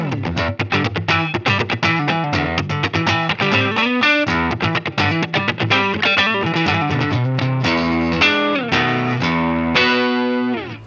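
Overdriven electric guitar through a modelled Minotaur pedal and compressor on a Line 6 Helix, with quick picked riffs and chords given an even, punchy attack, loud and continuous and heard alone.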